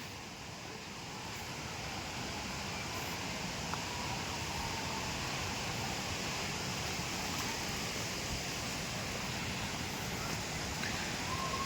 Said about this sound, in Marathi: तुम्हाला धबधब्याचा आवाज येतच असेल